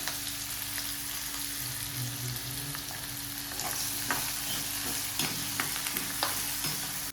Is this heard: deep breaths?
no